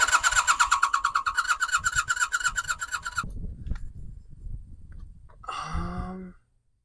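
A 1982 Honda Nighthawk motorcycle engine cranks over with a fast, steady rhythmic starter whir for about three seconds, then stops, leaving low rumbling noise before a brief higher-pitched burst near the end.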